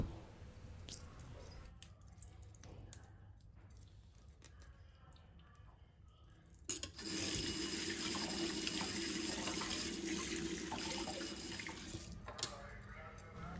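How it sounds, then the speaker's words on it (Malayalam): Tap water runs over a freshly cleaned fish being rinsed in a sink. Quieter handling and trickling come first, then a loud, steady gush of running water takes over for the second half. "2-3 പ്രാവശ്യം വെള്ളം ഒഴിച്ചിട്ടൊന്ന് വാഷ് ചെയ്തെടുക്കുക"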